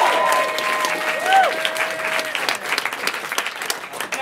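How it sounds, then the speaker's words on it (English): A live comedy improv show audience claps steadily and loudly throughout, with a cheer or whistle rising near the start and scattered voices mixed into the applause. "Round of applause"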